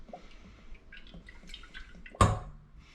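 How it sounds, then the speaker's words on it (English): Olive oil glugs out of a bottle into a pot in a home kitchen, a single loud pour arriving after quiet clinks and kitchen rustles and tailing off into a brief trickle. "going to pour in about 250 milliliters of olive oil here"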